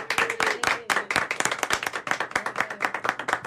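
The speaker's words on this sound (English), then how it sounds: "A round of applause for Peter Flynn." Audience applause for a performer after a live silent-film-on-the-radio show, a close, lively burst of many individual claps in a quick, uneven rhythm.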